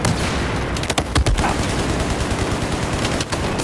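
Rapid hip-fired video game gunfire, a loud dense burst of automatic shots that fills the whole few seconds.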